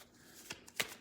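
Tarot cards drawn from a deck, giving a few quick, soft papery flicks and slides, close and faint, with no talk over them.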